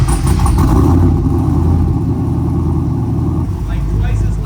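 A 408ci stroker LS V8 in a Trans Am revs loudly and steadily up close, a deep throbbing engine roar filling the whole stretch, with talk over it.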